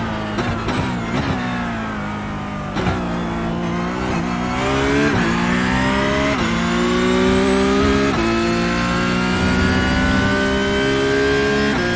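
Porsche Cup race car in iRacing on an outlap at Hockenheim, engine loud and close, climbing in pitch through repeated upshifts with brief dips between gears, steady and unbroken with no talk.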